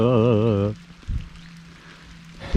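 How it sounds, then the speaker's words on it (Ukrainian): Light drizzle patters on a water surface during a fishing trip for perch, a soft steady crackle of small drops after a brief hum at the start, with occasional bubbling splashes. "Дивіться, які краплі. Тупо вже краплі такі майже з бульками."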